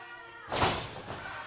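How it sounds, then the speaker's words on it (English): A wrestler slams onto the ring mat during a heavyweight championship wrestling match, landing as one heavy thud followed by a softer, rumbling settle. "Ryan Howe slams it, Silvio up"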